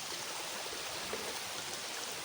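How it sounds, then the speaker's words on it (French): A forest stream flowing steadily, a constant broadband rush and trickle of water filling the whole clip at an even level, no voices. "Étant donné qu'il y a un ruisseau ici"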